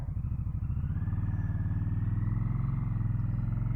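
A 2024 Indian Scout Bobber Sixty motorcycle pulls away, its engine rumbling close and loud in a steady, deep pulsing throb that builds slightly as it accelerates, with no voices.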